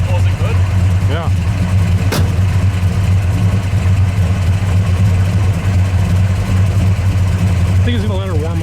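A 1957 Chevy engine idles steadily while warming up, a loud, low continuous rumble that holds even throughout, with people talking over it.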